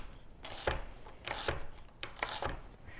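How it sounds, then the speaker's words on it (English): Knife chopping an onion on a cutting board, four soft rhythmic strikes evenly spaced, close but fairly quiet, with no talking. "we're going to chop an onion up"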